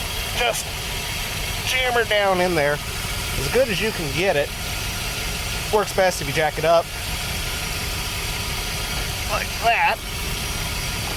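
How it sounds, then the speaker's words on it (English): Engine of an early-2000s Dodge Dakota idling with a steady fan whir, a constant low hum running under someone talking close by during a front bump stop install. "Sorry about the fan noise and the engine noise."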